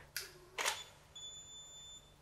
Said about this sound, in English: set the shutter delay to 150 instead